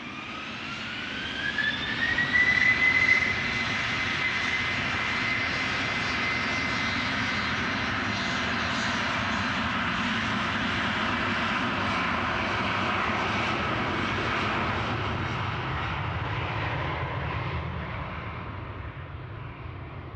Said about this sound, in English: EasyJet A321 is actually lining up here.